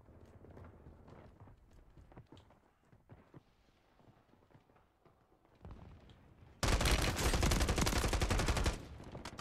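STV gun firing in a battle royale shooter set on the Fortune's Keep map: faint footsteps and scattered distant shots, then a loud, rapid automatic burst lasting about two seconds.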